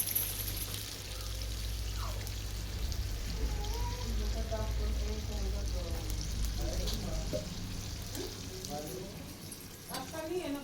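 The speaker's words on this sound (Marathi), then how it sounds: "आता याच्यात टाकू आपण ग्रेव्हीसाठी थोडंसं पाणी" Water poured into a pan of simmering prawn masala to make gravy, a soft trickle and sizzle close by, with a voice talking over part of it.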